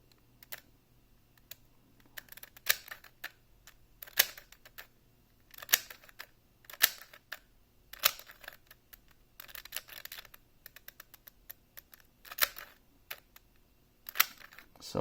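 A speed cube being twisted to test corner cutting gives bursts of quick, close plastic clicking and clacking in irregular runs, with short pauses between turns.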